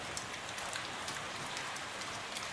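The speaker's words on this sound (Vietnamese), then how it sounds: "ngoài trời mưa to lắm các bạn ạ" Heavy rain pours steadily outside a home kitchen, a dense, continuous hiss of drops drumming on surfaces with no pauses, loud and enveloping on its own without any voices.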